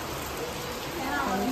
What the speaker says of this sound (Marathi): पाऊस बघा भरपूर पडतोय.